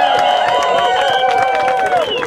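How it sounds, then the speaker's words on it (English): A rally crowd at a Binghamton campaign event for Obama cheers and whoops with sustained, overlapping voices and scattered clapping, loud and close throughout. "give yourselves a round of applause right now"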